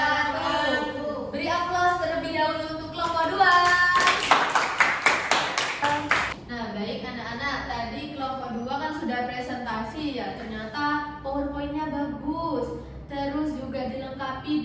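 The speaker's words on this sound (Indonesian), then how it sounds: "Beri aplaus terlebih dahulu untuk kelompok 2." A classroom group gives applause for group 2: a short burst of clapping lasts about two seconds, set among voices that talk before and after it.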